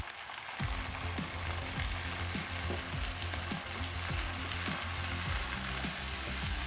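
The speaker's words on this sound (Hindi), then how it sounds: "इनको टमाटरों को सॉफ्ट होने तक हम अच्छे से भूनेंगे" Tomatoes fry and sizzle in a pot after a green chili paste for a pumpkin kofta curry, a steady close hiss broken by repeated scraping stirs throughout.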